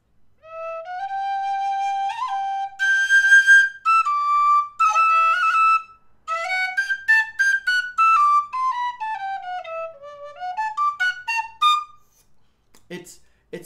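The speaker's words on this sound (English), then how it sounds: "It's meant to be like a session whistle." A high, breathy tin whistle plays a bright melody of sustained and sliding notes, close and clear, then trails off into a few light clicks.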